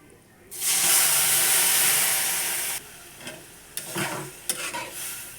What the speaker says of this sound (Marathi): आता आपल्या शेवया भाजल्या आहे, दूध टाकून घेऊ.